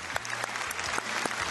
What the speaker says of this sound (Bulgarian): С удоволствие и аплодисменти посрещаме действащият шампион в последния печели, Снежана Гуванджиева Зорова!